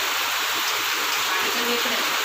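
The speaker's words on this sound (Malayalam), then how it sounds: "ചിലപ്പോൾ മഴയുടെ സൗണ്ട് കാരണം കേൾക്കാം" Steady rain falls outside a home, a constant even hiss that fills the whole stretch with a faint voice underneath.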